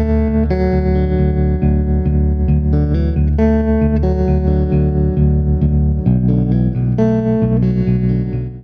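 A Danelectro 66BT baritone guitar is finger picked through a Fender amp with vibrato on, playing a steady, full, sustained melodic line with no talking.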